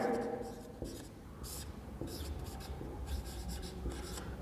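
Chalk or marker writing equations on a board during a physics lesson, short scratchy strokes in bursts between pauses, heard under someone speaking Hindi.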